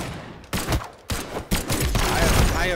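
Rapid laser cannon blasts from a Super Smash Bros-style PC video game fire in loud bursts with bright sweeping zaps, layered over busy game action.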